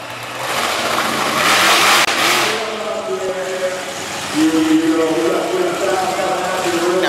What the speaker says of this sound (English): All that big drag racing horsepower out of Randy Moore's incredible War Wizard racing machine.